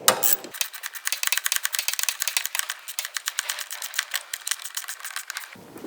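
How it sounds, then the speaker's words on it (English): A ratchet tightens the actuator bracket onto the starter of a Predator 3500 generator, giving a long run of quick, close mechanical clicks that rattle steadily for about five seconds with no talking. "we can go and attach our actuator bracket back into the starter, tighten that down."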